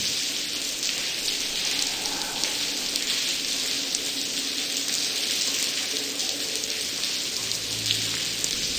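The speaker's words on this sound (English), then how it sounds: "The big feature of this game is rain" Steady rain pours in the video game The Blackwell, a dense, even patter on surfaces that holds at a constant level with no voices.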